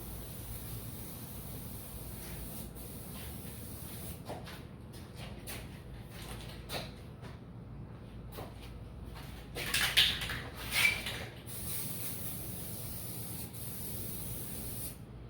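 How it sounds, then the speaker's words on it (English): Red spray paint hisses steadily from a can onto resin flag art in stripes, a continuous airy spray with a couple of louder bursts near the end, fairly close. "Now I know you see me spraying this red."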